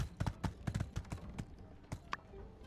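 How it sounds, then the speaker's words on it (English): Horse hooves clip-clop on the ground in the farming game My Time at Sandrock, a run of irregular thudding steps heard up close, with a brief chime near the end. "I can steer the horse the right way."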